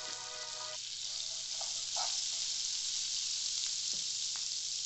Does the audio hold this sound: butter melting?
yes